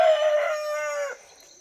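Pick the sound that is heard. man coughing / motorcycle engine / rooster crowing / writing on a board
rooster crowing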